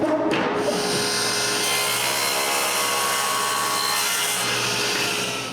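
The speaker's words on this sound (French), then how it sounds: "Je déplace donc le guide de coupe et j'agrandis la rainure." Wood being cut to widen a groove with the blade set by a cutting guide, a steady, loud, continuous grinding and rasping of the tool through the wood that holds for several seconds without a break.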